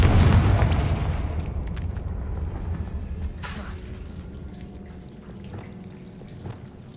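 A spell explosion in Hogwarts Legacy opens with a loud, deep boom that rumbles and slowly fades, followed by scattered crackling debris and a softer thud midway.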